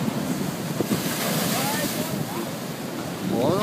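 Ocean waves breaking and surging at Snapper Rocks, a continuous roaring wash buffeted by wind noise on the microphone, with a person speaking faintly nearby.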